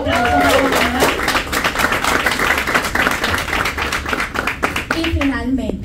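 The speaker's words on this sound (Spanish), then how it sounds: "Por favor, un aplauso para Pamela." An audience claps and cheers at the announcement of co-owners of the Las Montañeras de Morovis team in Puerto Rico. The dense, steady applause runs throughout, and a voice speaks over it at the start and again near the end.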